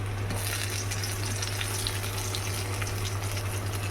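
Red and green bell peppers sizzle in a hot kadai, a steady close frying hiss with faint stirring crackles and a constant low hum beneath, with no voices.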